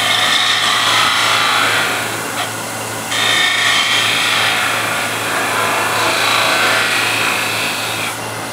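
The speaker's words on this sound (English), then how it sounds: "And I'll use skew to finish the bottom" A skew chisel shears the bottom of a spinning wooden coffee or tea container on a lathe, giving a steady, close, hissing scrape with a low motor hum beneath. The cut pauses briefly once, then resumes, with no talking.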